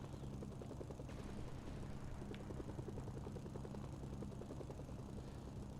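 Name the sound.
Apache-like helicopter in Mercenaries 2 video game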